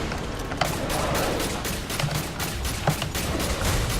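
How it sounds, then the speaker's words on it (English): Pistol fire in the video game Alien Breed 2: Assault, a steady rapid string of shots over dense, busy game noise, loud and close, with no voices. "I'm just using pistol, by the way"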